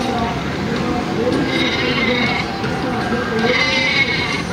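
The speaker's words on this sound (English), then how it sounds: "That's the super sheep." A super sheep weapon in Worms Revolution bleats and squeals over a busy, loud game soundtrack, with someone talking over it the whole time.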